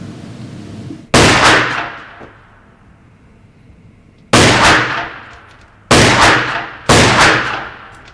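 Pistol shots at the Walther Arms shooting range: four loud, sharp cracks close by, each ringing off into a short reverberant tail, the last three coming in quicker succession.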